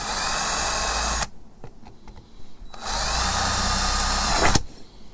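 A power drill bores into an RV roof while a Camco Max Air type vent cover is installed, running in two loud sustained bursts separated by a quieter gap with faint handling noises, then stopping abruptly.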